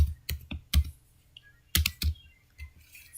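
Code is typed on a computer keyboard in quick irregular bursts of close, crisp key clicks with short pauses between.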